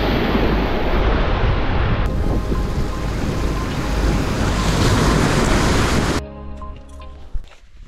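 Waves wash loudly onto the shore in a continuous roar with wind buffeting the microphone, then the surge drops away near the end.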